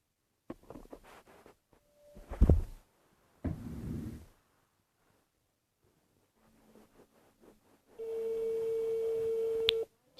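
A telephone call tone sounds on a phone, a steady sustained tone lasting about two seconds near the end, preceded by scattered handling knocks and clicks.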